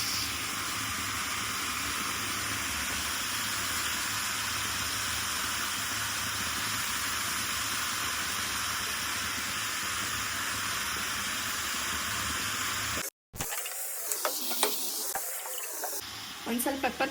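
Vegetables for momo filling frying in a pan, a steady loud sizzling hiss that runs unbroken for a long stretch, then cuts out briefly before returning with clattering stirring.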